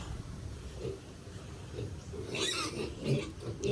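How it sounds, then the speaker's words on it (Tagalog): A pig grunts and oinks close by in short low snorts, quiet at first and then louder in a few clustered grunts near the end, with no talking. "magpapaligo na muna po tayo ng baboy"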